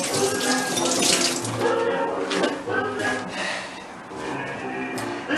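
Tap water running into a sink while hands are washed before baking, a continuous splashing rush with some louder bursts early on and quieter flow later, with a voice faintly present underneath.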